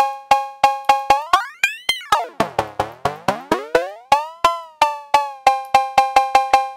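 Bitwig E-Cowbell synthesizer producing a quick run of bright, metallic cowbell hits whose pitch rises and dips in sweeps before settling into steady repeated notes, close and dry with no voices.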